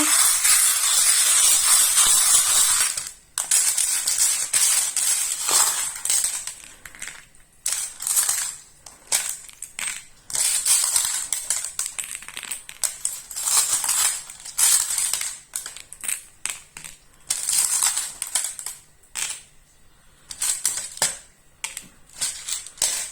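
Small fortune-telling charms being mixed and laid out by hand, a long stretch of bright clinking, rattling and scattering with short pauses between handfuls, close and fairly loud, with no talking.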